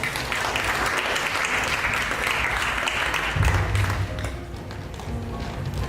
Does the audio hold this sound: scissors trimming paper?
no